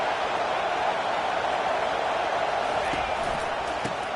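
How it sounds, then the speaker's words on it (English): A stadium crowd at a college football game, Heels against Notre Dame, sends up a loud, continuous roar of cheering and noise to rattle the offense, filling the whole stretch without letup. "It is getting loud as this crowd tries to help its defense."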